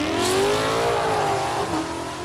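Chrysler 300C with turbocharged all-wheel drive, a low 10-second drag car, accelerating hard down the strip at a drag racing event; a loud, continuous engine roar with rising pitch fills the whole short stretch.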